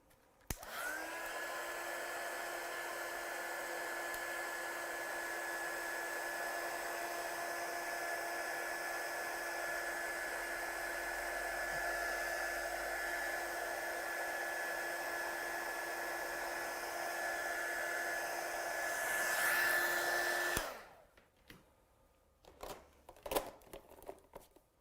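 A hair dryer or heat tool blows steadily for about twenty seconds at close range while drying a card craft project, a loud even whine and rush of air that switches off abruptly, followed by light handling noises.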